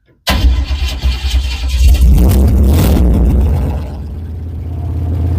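A truck engine cranks and catches after a push-button starter, roaring loud and close, then settling into a steady, rumbling idle.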